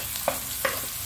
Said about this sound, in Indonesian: Kita masukin tomat sama cabai hijaunya ya teman-teman.